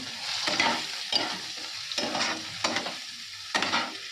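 Spices fry and sizzle in a hot pan on a home kitchen stove, with a steady hiss broken by repeated scraping stirs that come in bursts about once a second.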